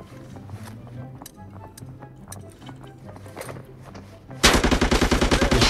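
AK Somalia rifle firing in a video game: a rapid, loud, evenly spaced burst of automatic shots bursts in after a stretch of quieter game sounds and background chatter.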